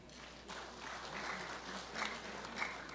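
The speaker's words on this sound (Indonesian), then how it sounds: "Tepuk tangan." A crowd at a South Sulawesi anniversary ceremony claps, a faint, distant patter of applause rising and falling over a few seconds in a large hall.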